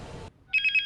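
A telephone rings on a call placed to a husband in the Silent Hill horror film, a short burst of bright electronic trills pulsing in quick repetition after a moment of silence, clear and close with no talk.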